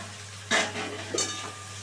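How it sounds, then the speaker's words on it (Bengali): Pre-fried potatoes are tipped into browning onions in a hot pan, giving two sharp bursts of sizzling over a low steady hum, followed by softer frying and stirring. "এবারে আমি আগে থেকে ভেজে রাখা আলুগুলো প্রথমে আমি দিয়ে দিচ্ছি"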